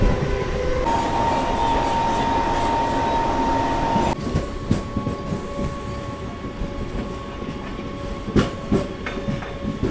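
MEMU commuter train on the Vijayapura to Hubballi line accelerating, a steady loud rumble and hum with a sustained tonal whine, then a sharp change to lighter rattling and clicks of wheels over rail joints.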